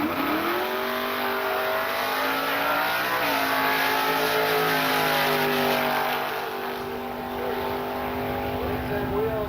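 A drag racing car making a quarter-mile pass, its engine roaring loud and steady with a rising, shifting pitch throughout, close and powerful against a constant high hiss.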